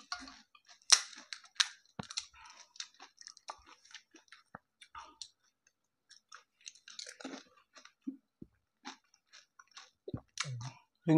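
Pani puri eaten quickly: quiet, close crunches and wet chewing in irregular bursts, with short silent gaps between bites.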